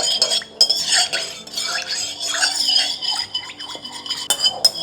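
Probiotic powder being mixed into a small amount of juice, a spoon clinking and scraping against the container in quick irregular strokes, close and fairly loud with no talk.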